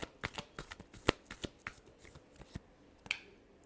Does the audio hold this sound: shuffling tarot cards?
yes